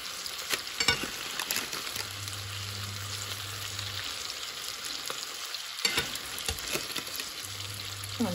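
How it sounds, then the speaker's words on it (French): Fish seasoned with garlic and onion cooks on a baking sheet, giving a steady broadband frying sizzle with occasional crackling pops throughout, fairly close and continuous with no voices. "Et vous laissez cuire le poisson."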